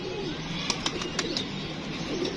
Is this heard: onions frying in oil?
no